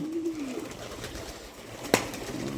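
A single low pigeon coo rises and falls near the start, followed by quiet background and a sharp tap near the end.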